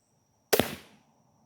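A single sharp crack from a Ballista Archery Megabat crossbow firing, loud and close, followed by a quick rattling decay of the limbs and string into quiet.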